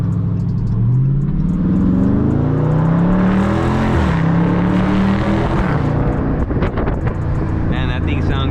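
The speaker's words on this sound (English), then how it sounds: "that's just a stock exhaust with nothing but a muffler delete, man. Mid muffler delete, that is." Dodge Charger 392 Scat Pack V8 on its stock exhaust with a mid muffler delete, revving hard up and down in loud, sustained climbs close to the microphone, with wind buffeting throughout.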